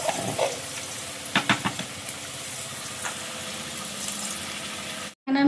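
Gobindobhog rice khichdi is stirred in a pot, a low bubbling sizzle with a few sharp spoon knocks near the start, steady until a sudden brief cutout near the end.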